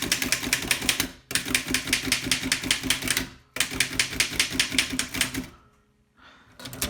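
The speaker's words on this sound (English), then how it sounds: "Very, very, very fast typing in this machine." A Fox upstrike typewriter is typed on very fast, producing a rapid, even stream of sharp mechanical key strikes in two long runs. A brief pause separates the runs, then a quieter stretch follows before clacking resumes at the end.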